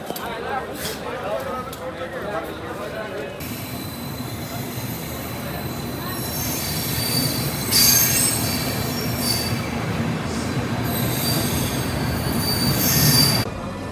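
An Indian Railways sleeper coach train runs steadily on a long-distance journey, with a continuous loud rumble and high metallic wheel squeal building toward the end, heard from inside the coach.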